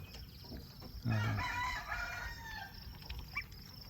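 Newly arrived farm birds, a rooster crowing once in a drawn-out cock-a-doodle-doo along with soft clucks, close by against a quiet outdoor background.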